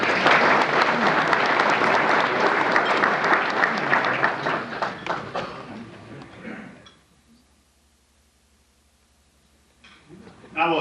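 Loud sustained applause from an audience at a university athletics hall of fame induction, clapping steadily for several seconds before fading into near silence, with faint sound returning at the end.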